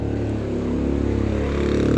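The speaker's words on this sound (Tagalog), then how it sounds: "ang ingay ng mga motorsiklo na dumaan" Motorcycle engines rumble steadily past on a street during a holiday, a low continuous drone that stays loud and near for the whole stretch.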